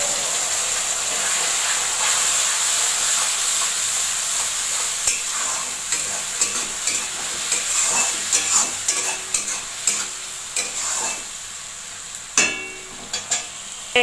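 A ginger, garlic, onion and chili paste fries in a pan over a steady oil sizzle, with repeated scraping stirs that grow more frequent toward the end; no one speaks.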